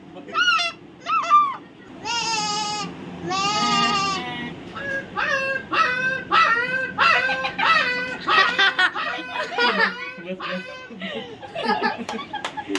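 A child sitting out in a street imitates a goat bleating, giving several long, quavering nasal bleats followed by chuckling and playful vocal noises, with other children laughing and talking nearby.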